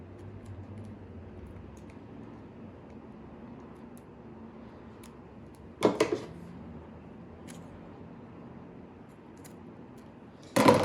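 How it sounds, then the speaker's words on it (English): Scissors snip through excess macrame string on a bracelet, two short crisp cuts, one mid-clip and one at the end, over a quiet room hum. "you can cut off the excess"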